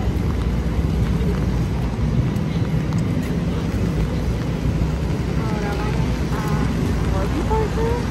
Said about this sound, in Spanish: Está lloviendo tanto.